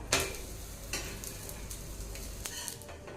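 Ragi roti cooking on a hot pan with groundnut oil, a steady close sizzle punctuated by a few sharp scrapes and taps of the spatula, with no talking.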